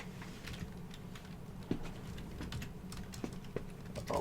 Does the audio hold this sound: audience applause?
no